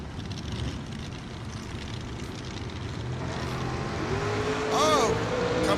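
A first-generation Camaro race car drives past at a drag racing event, its engine a steady rumbling roar with distant crowd and announcer talk underneath, swelling slightly louder toward the end.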